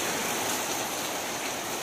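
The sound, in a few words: first rain of the year falling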